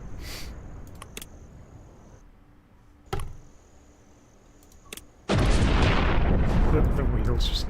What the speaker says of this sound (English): The wheels just detonated under the load.